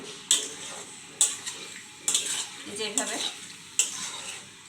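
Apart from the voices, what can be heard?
stirring chicken dopiaza frying in a pan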